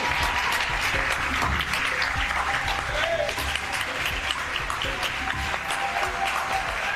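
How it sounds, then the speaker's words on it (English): Applause and cheering from a political event crowd greeting former Texas Congressman Beto O'Rourke, dense and steady clapping that fills the room throughout with crowd noise underneath. "He walked into the room and the crowd went wild."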